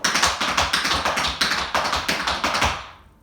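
Quick, crisp tap shoe strikes in a steady shuffling rhythm, close and clear, with no voices, stopping after a few seconds.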